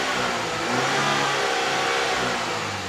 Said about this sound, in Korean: 공회전 한번 돌려보도록 하겠습니다